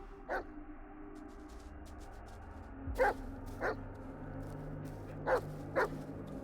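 Dog barking in the Blair Witch video game, several short yips and barks spaced apart over a low steady ambient drone.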